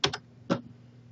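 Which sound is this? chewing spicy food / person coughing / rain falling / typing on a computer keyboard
typing on a computer keyboard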